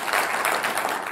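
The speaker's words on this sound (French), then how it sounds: "On peut applaudir." Applause from an audience at a talk with tennis player Yannick Noah: a brief, fairly steady burst of many people clapping, moderately loud with slight pulsing.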